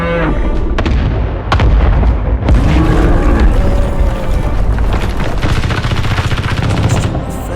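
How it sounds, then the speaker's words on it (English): Missile detonations in a movie creature battle scene: a continuous roar of booming blasts and rapid gunfire-like bursts, loud and dense throughout, with brief faint voices mixed in. "Missiles away. Detonation is good."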